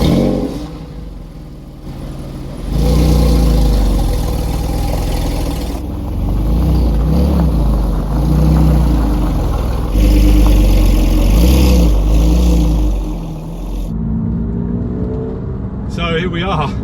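A Porsche 911 997.1 Carrera 4S engine revs and pulls away, with rising and falling engine sweeps and a steady driving roar, loud and close. Someone talks briefly near the start and near the end.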